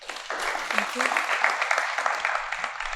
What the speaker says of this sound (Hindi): तो सबसे पहले तो मिस दरख्शां लाल साहिबा के लिए भरपूर तालियां होनी चाहिए